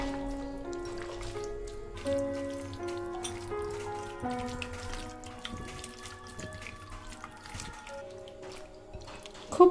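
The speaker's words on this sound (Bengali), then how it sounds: "খুব ভালোভাবে হাত দিয়ে আমি মাখিয়ে নিয়েছি" Hands mixing chicken with sour yogurt and spices for a marinade, giving soft, wet squishing and dripping sounds in an irregular rhythm, close up and quiet, with no talking.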